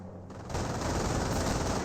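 MG42 machine gun fire in the strategy game Company of Heroes: a steady, loud, sustained rattle that starts after a quiet half-second and runs unbroken to the end.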